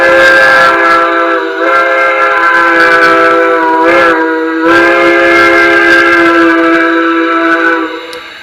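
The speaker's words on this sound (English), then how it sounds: "F3 is a long whistle." A long, sustained whistle from an LGB Mikado model train's Zimo sound decoder plays loud and close, held for several seconds with a few brief dips before trailing off.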